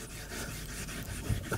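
A woodworking chisel is pulled, edge trailing, along a piece of leather strop, making a soft, close rubbing swish that repeats in short strokes.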